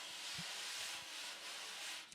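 A wire brush sweeps in steady circles across a jazz drum's snare head, giving a continuous soft swishing hiss with a few faint low taps, close and alone.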